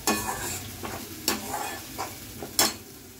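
A spoon stirs a tomato, onion, garlic and ginger mix in a hot pan. A few sharp scraping strokes stand out over a steady low sizzle, close and clear, with no talking.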